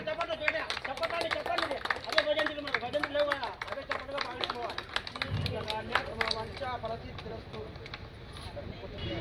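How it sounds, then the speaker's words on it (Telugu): An audience at a sales counter inauguration breaks into sustained, dense applause for several seconds, mixed with crowd murmur and voices, fairly close and loud throughout. "మేడం అందరూ చప్పట్లు"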